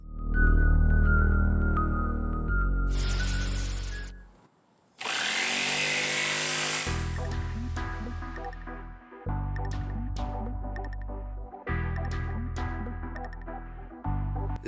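A power tool cuts out a wooden maneki-neko cat figure, running loud and steady in long close bursts that pause briefly and then resume, with no talking.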